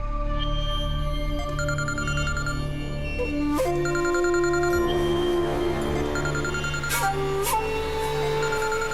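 A phone ringtone plays on and on, a repeating electronic melody with bright chiming notes, fairly loud and with no talking.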